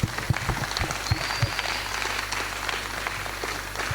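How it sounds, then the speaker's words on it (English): Audience at a hackathon closing ceremony applauding, a dense wash of clapping from many hands that holds steady throughout, with some sharper claps standing out near the start. "Can you give yourself a massive round of applause for everybody?"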